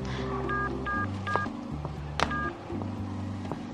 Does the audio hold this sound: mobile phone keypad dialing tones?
yes